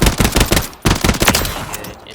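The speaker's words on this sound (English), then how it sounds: "This thing shoots really well in the firing range." An assault rifle fires in rapid bursts on the Warzone video game firing range, loud, close, sharp reports in quick clusters with brief pauses between them.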